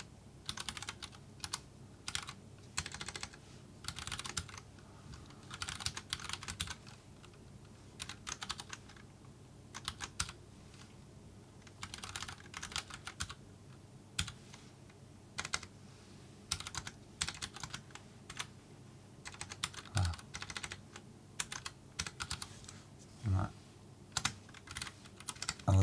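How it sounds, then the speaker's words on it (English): Rapid, uneven clatter of keys on a computer keyboard while code is being written, close and fairly quiet, in bursts with short pauses and no talking. "I wasn't lined up with my keyboard correctly, I think."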